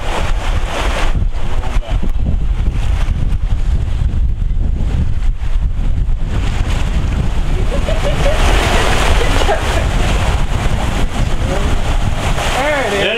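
Strong wind around 23 knots roars across the microphone aboard a sailboat off Mexico's Pacific coast, a steady heavy buffeting with water rush, building louder in the second half while voices speak over it.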